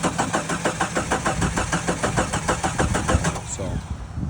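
The 4.2 engine in a Jeep CJ7 cranks with a fast, rhythmic chug from the starter and then catches and settles into a rough idle, loud and close.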